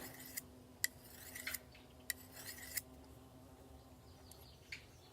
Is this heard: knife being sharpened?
yes